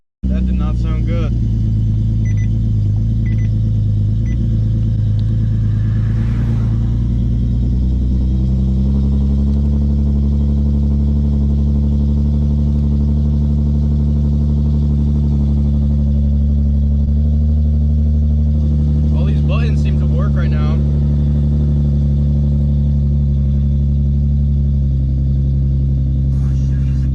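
An Infiniti G37 engine fires up from a cold start and idles rough and loud close by, its uneven low rumble continuing throughout while a person talks over it.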